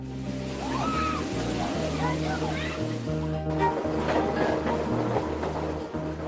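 Train running along a Brazilian railway, a steady rumble with rhythmic rail clatter and faint squeals, with speech over it throughout.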